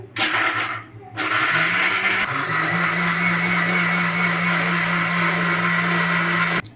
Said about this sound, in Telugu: ఇప్పుడు వీటిని మిక్సీ జార్లో వేసేసి మిక్సీ చేసేసుకుందాము